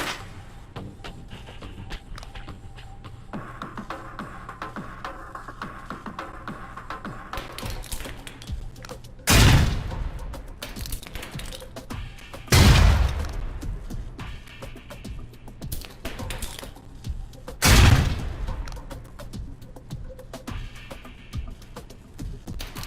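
Grenades explode under a truck in the Alpha Protocol video game, three loud booming blasts spaced a few seconds apart over a low background of game ambience and footsteps.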